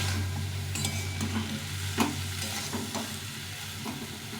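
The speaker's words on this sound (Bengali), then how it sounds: "এখন এটাকে ভালো করে ভেজে নিতে হবে" Spring onion stalks stir-fried in a pan with chillies, a soft continuous sizzle broken by several sharp spatula scrapes and clacks against the pan, close and alone.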